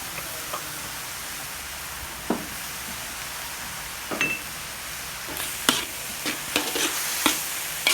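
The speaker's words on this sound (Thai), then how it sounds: "เราผัดหมูกับเต้าเจี้ยวให้เข้ากันก่อนนะครับ" Pork stir-fried with fermented soybean paste in a pan makes a soft, low background sizzle, broken by scattered sharp scrapes and knocks of the spatula that grow more frequent toward the end.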